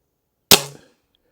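A single sharp shot from a Weihrauch HW57K .177 air rifle, a loud close crack that decays quickly with a brief ringing tail, then silence.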